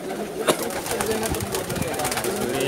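Pigeons in a loft of special Pakistani pigeons, belonging to a pigeon master, coo softly and continuously through a busy, noisy background, with one sharp bump early on.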